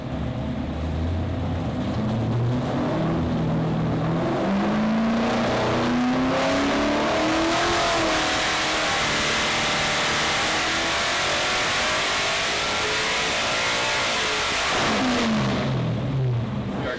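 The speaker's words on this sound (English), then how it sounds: "We are finished up here at LME with the engine dyno." A high-powered car engine on a dyno at LME revs hard, with its pitch sweeping up through a sustained loud pull, easing off, then climbing again near the end.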